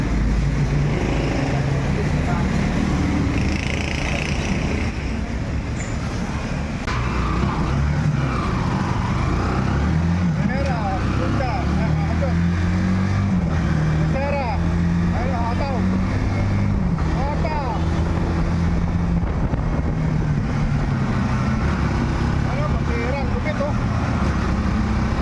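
Continuous drone of a motorcycle fitted with a 12T/42T sprocket combination on a test ride, with the engine loud and close for the whole stretch, rising and falling with the throttle, while someone talks over it.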